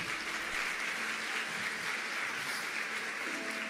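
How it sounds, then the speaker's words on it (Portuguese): A church congregation applauds during a sermon, a continuous wash of clapping heard from a moderate distance, even and sustained without speech. "Aplauda ao Senhor."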